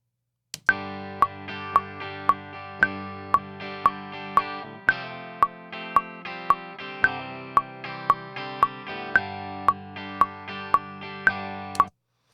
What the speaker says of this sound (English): now if I turn on my click, we can hear the metronome going along with the music